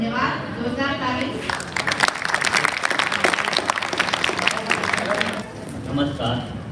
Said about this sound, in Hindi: धन्यवाद, जोरदार ताली।